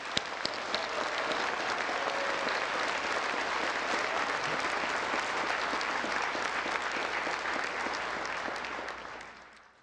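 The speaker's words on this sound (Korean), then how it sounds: "우리 대통령님께 내년에도 계속 오셔달라고 다시 한번 뜨거운 박수를 부탁드립니다" Warm, sustained applause from a large audience at a national prayer breakfast, a thick wash of many hands clapping at steady volume for nearly ten seconds before tapering off at the end.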